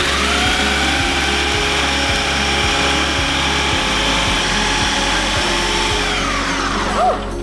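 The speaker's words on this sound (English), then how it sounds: "First, we're gonna blend it." A powerful kitchen blender grinds Oreo cookies for no-bake truffles, giving a loud, steady motor whine with faint rhythmic thumps from the contents churning, running continuously from start to finish.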